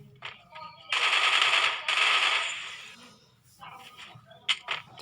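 Gunfire in the mobile game Free Fire during a 4v4 match: two loud, sustained bursts of rapid shots close together, followed by scattered clicks and quieter single shots.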